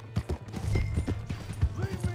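A horse's hooves clip-clop at a steady walking pace in the video game Red Dead Redemption 2, with close, hollow thuds and a brief voice partway through.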